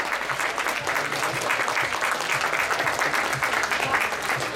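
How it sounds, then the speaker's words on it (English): Audience applause at a children's dancesport competition: steady, dense clapping from a large crowd, sustained at an even level throughout without pause. "one more big round of applause"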